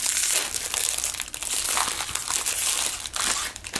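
A paper guide from a JBL Tune 750BT headphone box crinkles and rustles continuously up close, loud and crisp, handled with no talking.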